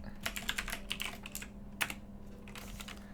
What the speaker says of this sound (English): What's wrong with my typing today?